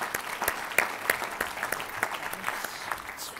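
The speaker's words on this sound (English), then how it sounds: "we'll give Levi a round of applause" A graduation ceremony audience gives a round of applause for an animal science graduate, moderate scattered clapping from a hall, fairly distant and fading toward the end.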